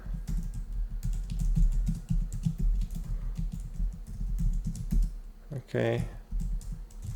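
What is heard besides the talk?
typing C code on a computer keyboard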